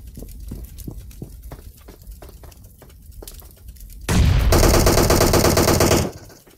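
A DP-28 spraying gunfire in PUBG Mobile: scattered softer shots and footsteps, then a loud continuous burst for about two seconds before it cuts off.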